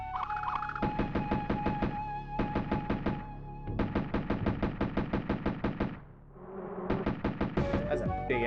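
Rapid bursts of rifle gunfire in a video game, several distinct volleys of sharp repeated shots separated by short pauses, with faint talk in the background.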